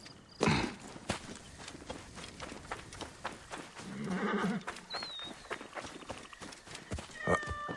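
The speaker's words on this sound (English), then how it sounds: "You're a very nice looking horse" A horse in Assassin's Creed Origins whinnies and its hooves clop in an uneven walking rhythm, fairly close, with someone speaking over parts of it.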